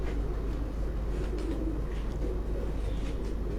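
A grey racing pigeon held in a hand on a Karachi rooftop gives soft, low cooing over a steady outdoor hum, continuous and close.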